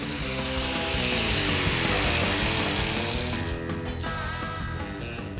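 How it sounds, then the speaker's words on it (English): A grinder with a cutoff wheel cuts through a thick steel Dodge Dart bumper, a loud, steady, high-pitched whine that runs close and constant before easing off near the end. "a grinder with a cutoff wheel eliminates having to deal with any slag"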